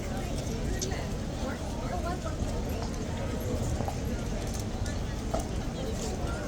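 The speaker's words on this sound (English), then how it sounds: "Here I am at Horse Guards. This is the horse." Horse hooves clip-clop on pavement at Horse Guards in London, a steady rhythm of hoof strikes under a constant din of street noise and murmuring crowd voices.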